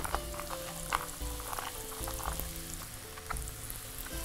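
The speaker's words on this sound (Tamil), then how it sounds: "எல்லா காய்கறிகளையும் நம்மளுக்கு வதங்கணும்" Finely chopped capsicum, beans and carrot sizzle and crackle steadily in a hot pan, with light stirring clicks scattered through the frying, close and fairly quiet.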